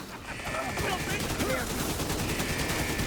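Rapid bursts of small video-game explosions and gunfire-like pops crackle continuously in a multiplayer match, dense and loud, with a faint voice underneath.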